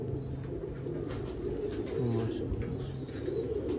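Sialkoti pigeons, white-winged with spotted markings, coo nearby in short low throaty phrases, with voices murmuring in the background.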